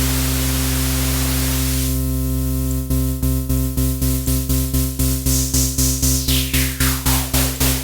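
Loud hissing noise from a Moog Mariana bass synthesizer with a steady hum, turning into a fast rhythmic pulsing as the high-pass filter sweeps and the hiss thins out.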